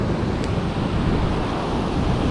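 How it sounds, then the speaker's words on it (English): A big ocean wave crashes onto rocks along the Central California coast, a steady loud roar of surf with heavy wind noise on the microphone, sustained throughout without a distinct single impact. "That's a big wave."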